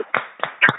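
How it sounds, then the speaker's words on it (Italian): Brief burst of hand clapping on a radio prank show, three or four loud claps spaced unevenly, close and alone with no talk. "Un applauso!"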